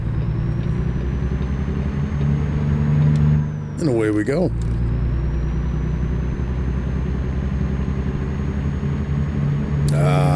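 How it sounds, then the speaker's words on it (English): A truck engine in American Truck Simulator drones steadily and loudly throughout, with a person speaking briefly partway through. "The sound and feel of a truck."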